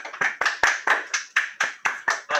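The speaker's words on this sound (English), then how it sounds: "let's give them a round of applause" At a hall game show, about ten sharp, evenly spaced hand claps ring out close and clear, with no talking.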